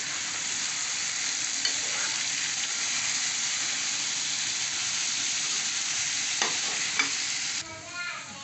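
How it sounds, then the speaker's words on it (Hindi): Chicken liver pieces fry in hot oil with a steady, close sizzle that holds for about eight seconds, broken by a couple of brief scraping stirs near the end before the sizzle drops slightly. "कलेजी को हमने 5 मिनट फ्राई कर लिया"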